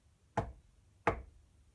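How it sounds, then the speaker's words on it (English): Two sharp knocks on a door, spaced about two-thirds of a second apart, close and distinct against a quiet background. "he came up to the house of the children and knocked on the door twice"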